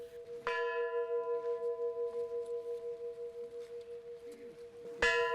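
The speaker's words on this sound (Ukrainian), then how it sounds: "30 разів ударив дзвін на меморіальному кургані героям Чорнобиля" A memorial church bell tolls at a Chornobyl heroes' memorial mound, two loud strikes about five seconds apart with a long humming, ringing decay sustained between them, heard alone.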